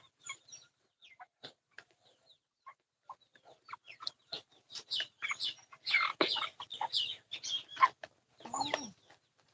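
Broiler chickens on a farm give many scattered clucks and short squawks, sparse at first and then a denser, louder flurry of overlapping calls near the end.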